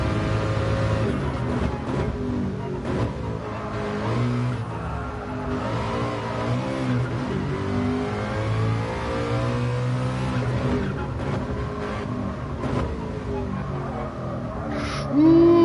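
A race car in GT Sport lapping Bathurst, engine revving loudly and steadily with rising and falling pitch through gear changes, close and continuous, with a brief sharper noise near the end.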